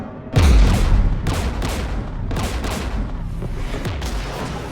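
Gunfire and artillery from the Mass Effect 3 video game: a heavy boom opens, followed by repeated sharp bursts of shots at irregular intervals, loud and layered over a constant rumbling battle backdrop.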